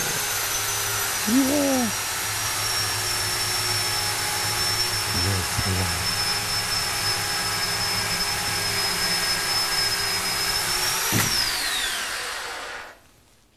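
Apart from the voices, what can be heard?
slow chainsaw running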